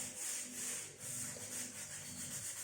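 Sandpaper rubbed back and forth over a wooden surface with light pressure, a steady close scratchy hiss that swells and dips in a slow repeating rhythm, with no voices.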